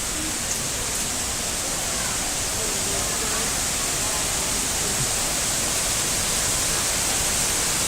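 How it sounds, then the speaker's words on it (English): Steady broadband roar of a waterfall on a gorge trail at Watkins Glen, New York, constant and enveloping with no breaks, loud and close like heavy rushing water. "Check out those falls in the background."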